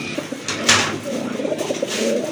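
A pair of Black Gold Archangel pigeons coo softly at close range, low murmuring calls running through the short stretch with faint background noise and no talk over them.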